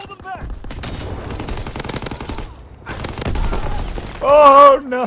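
Rapid gunfire and bursts from a video game battle with cannons, artillery and grenades, dense volleys coming in waves, broken by brief lulls and a tonal game effect near the end.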